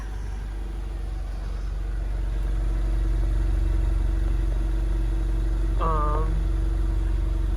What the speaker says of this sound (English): so that will turn on the car